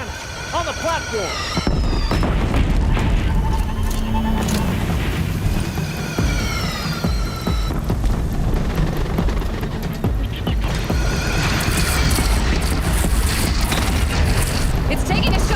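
Heavy cannon fire booms in the video game Horizon Zero Dawn, with repeated loud blasts and rumbling over game music and effects, densely layered and continuous.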